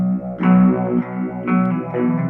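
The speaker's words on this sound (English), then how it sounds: "The next pedal on the board is a Phase 90 clone" Electric guitar through a Phase 90 clone phaser pedal on a budget doom metal pedalboard, chords with a sweeping, swirling phase motion, loud and close with no talking.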